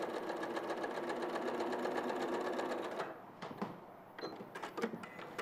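A domestic sewing machine pieces a small quilt at a shortened stitch length, running in a steady fast whir for about three seconds before stopping, followed by faint handling clicks and rustles.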